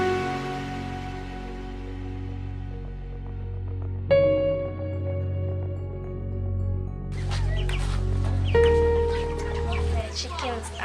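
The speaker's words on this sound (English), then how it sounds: "The chickens are really nice, but they are naughty." Farmyard chickens cluck and squawk close by among other background sounds, with a person talking over part of it.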